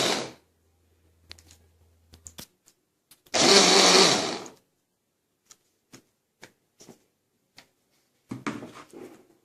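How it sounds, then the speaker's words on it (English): A blender whirs loudly for about a second, blending a detergent solution mixture, surrounded by scattered clicks and taps, with short motor bursts at the start and end. "It is blended for 2 minutes."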